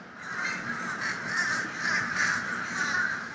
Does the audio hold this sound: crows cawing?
yes